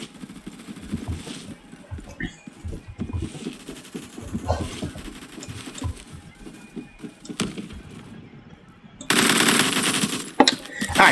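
Rifle gunfire from the video game Phantom Forces comes in rapid automatic bursts and scattered single shots, mixed with game noise, and ends in a louder, denser stretch of fire.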